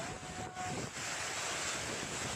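Strong, sustained storm wind buffets a festival campsite, a loud broadband rush with gusty swells and microphone buffeting, continuous throughout with no talk.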